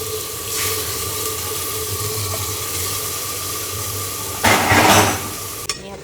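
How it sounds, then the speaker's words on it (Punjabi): Water poured into a pan and swirled to rinse off clinging masala tempering while cooking an aloo, carrot and pea sabzi, heard as a steady close watery wash that surges louder near the end before a brief clatter. "ਪਾਣੀ ਪਾ ਕੇ ਮਾਸਾ ਹਿਲਾ ਕੇ ਤੇ ਵਿੱਚੇ ਸਿੱਟਾਂਗੇ ਆਪਾਂ"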